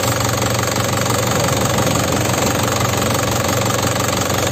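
The engine of a 2009 Isuzu Panther Grand Touring with manual transmission runs steadily at close range, a continuous, even drone with no pauses or changes in pitch.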